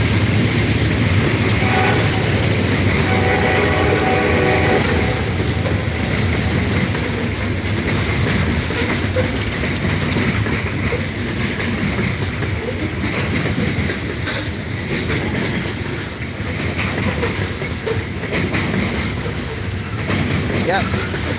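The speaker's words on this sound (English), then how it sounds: "Loaded coal train." Loaded coal train rolling past trackside at Thurmond, West Virginia, a loud, close, continuous rumble of heavy cars with clacking wheels and brief squeals, while someone talks intermittently over it.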